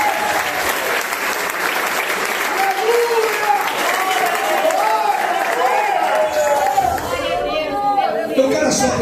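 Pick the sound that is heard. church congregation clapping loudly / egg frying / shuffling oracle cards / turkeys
church congregation clapping loudly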